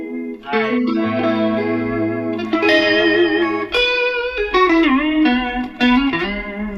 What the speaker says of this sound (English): Let's see if I can get some chorus on here.